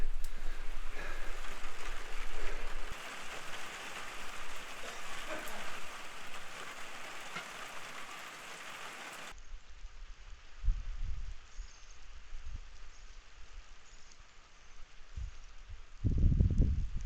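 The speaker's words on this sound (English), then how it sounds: "It's raining again." Rain falls steadily outdoors, a soft continuous patter and hiss that is fairly faint, changing character midway and ending with a few low thumps.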